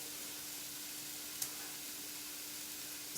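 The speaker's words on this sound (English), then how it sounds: "We're gonna let that saute for just a few minutes." Cauliflower rice stir fry sautéing in a pan gives a steady, soft hiss of sizzling, with one brief clink partway through and another at the end.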